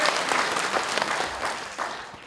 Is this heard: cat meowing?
no